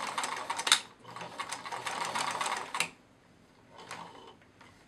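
A sewing machine stitches plush otter fabric up close, a fast mechanical whirring chatter running for about three seconds, stopping, then a shorter burst of back stitching.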